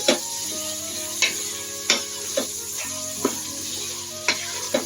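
Bottle gourd sautéed in an onion masala for kurma sizzles steadily in the pan. A spatula scrapes through it in sharp, regular strokes about every half second.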